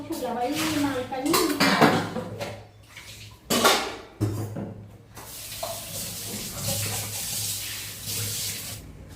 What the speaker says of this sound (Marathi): सगळे भांडी भिजवून घेते आधी.